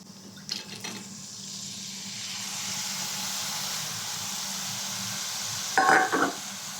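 Pickled beetroot, carrot and radish with lime are tipped into a mix, giving a steady soft hiss and stir with a brief louder clatter of the additions near the end.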